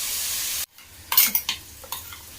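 Onions with rock salt sauté in a pan for a home-style mutton curry, giving a soft background sizzle followed by a few sharp scraping stirs of a spoon against the pan, close and moderately loud, with no talking.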